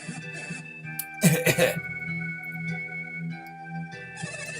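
An old man's cough and throat-clearing burst out close up in the video game Golden Sun, set against a continuous droning game soundtrack with faint background tones.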